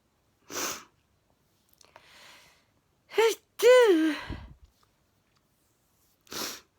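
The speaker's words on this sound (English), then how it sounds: "Sneezing so hard." Hard sneezing in bursts: a sharp sneeze, a short sniffly breath, then a forceful gasp-and-sneeze with a drawn-out vocal wail, and another sneeze several seconds later, close and loud in a quiet room.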